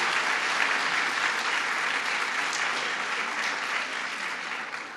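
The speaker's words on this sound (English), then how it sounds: "let's give them a round of applause and thank them." Sustained, dense applause from a large audience at a governor's education legislation signing event, honoring faculty and staff; steady and loud throughout with no speech over it.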